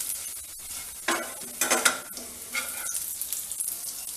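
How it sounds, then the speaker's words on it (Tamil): Garlic fries in oil for garlic podi, a close crackling sizzle broken by a few bursts of stirring scrapes in the pan. "பூண்டு காய்ச்சா நம்ம இவ்வளவு எண்ணெய் ஊற்றியிருக்கோம்"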